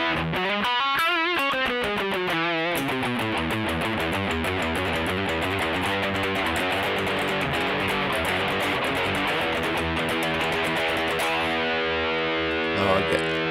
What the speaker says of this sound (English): Smoother distortion.